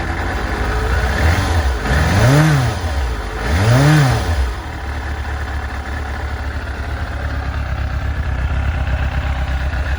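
A cold 1993 Yamaha YZF 750 R motorcycle engine, just off the choke, idles with a rough low rumble, blipped up twice in quick succession before settling back to a steady, loud idle.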